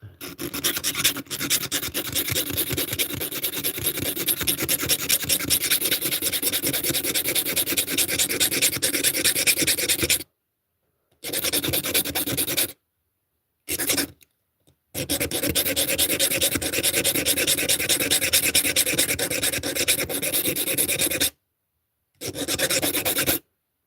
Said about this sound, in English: So let's bust out the file.